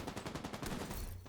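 Video game gunfire, a quick series of sharp shots in a steady run close by, fairly loud, with no talking.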